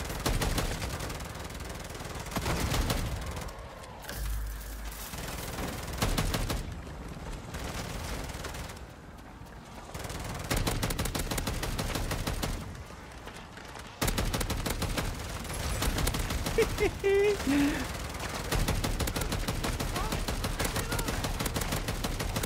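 Rapid bursts of automatic gunfire from a deployed sentry turret in Call of Duty MW3 Zombies, sustained and loud through most of the stretch, with brief lulls between volleys.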